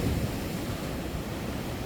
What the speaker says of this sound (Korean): 걷는 동안 시원한 바닷바람과 파도 소리를 즐길 수 있고